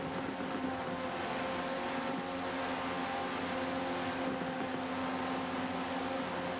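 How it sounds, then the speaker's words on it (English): Pack of GT3 race cars in Forza 7 at Watkins Glen, a steady dense engine roar with layered droning tones, loud and continuous with no breaks. "It's a choir of GT3 cars."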